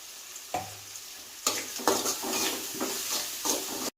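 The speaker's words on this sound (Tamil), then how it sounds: "வெங்காயம் நல்லா வணங்கிடுச்சு." Small onions sautéing in a pan, a constant crackling sizzle broken by repeated scraping stirs and utensil knocks, close and fairly quiet.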